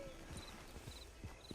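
Horse hooves clip-clop at a steady walking rhythm in the Red Dead Online video game, quiet and close, with no talking.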